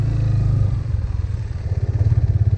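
Motorcycle engine pulling away in first gear during a beginner riding lesson, a steady low rumble that swells and pulses as the throttle opens, close and loud, with no talking.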